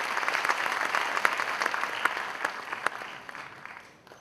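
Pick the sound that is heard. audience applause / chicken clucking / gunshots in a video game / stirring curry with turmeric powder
audience applause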